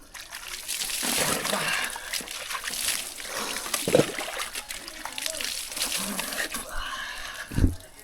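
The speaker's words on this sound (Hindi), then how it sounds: "एक बाल्टी पानी में ऐसे मग्गे से पानी लो" A mug scoops water from a bucket and pours it out during a bucket bath in the mountains, giving repeated trickles and splashes with a voice talking throughout.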